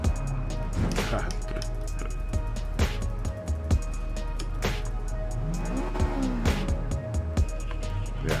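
Race cars from the video game Gran Turismo 7, a Miata among them, roar steadily with engines revving up and down and tires squealing repeatedly through corners, with voices talking over the game.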